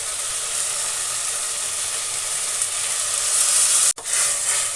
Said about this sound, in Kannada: ಹುಣಸೆ ಹಣ್ಣಿನ ರಸ ಹಾಕಬೇಕು.